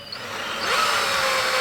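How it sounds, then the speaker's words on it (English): A cordless drill with a pipe notcher whirs steadily, its pitch rising and grinding louder as the bit cuts through a metal pipe, with no voices. "What we do is we get our battery powered drill here"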